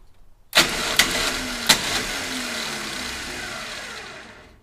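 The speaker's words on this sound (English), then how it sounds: "All right, starter not engaging." Starter on a junkyard 1969 Charger dirt track car with a 440 engine failing to engage, giving sharp mechanical clunks followed by a loud sustained whirring spin that fades out, heard alone.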